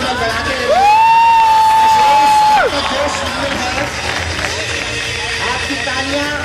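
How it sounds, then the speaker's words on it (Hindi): Crowd at a school annual day cheers and shouts, with a sharp sustained whistle for about two seconds near the start, then a steady, noisy hubbub of voices continuing to the end. "आपकी तालियां बच्चों के जोश का काम कर रही है"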